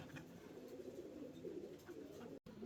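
A pair of Barhumar pigeons at a breeder's loft coo softly and steadily, a low murmuring call running through the whole moment with a brief gap near the end.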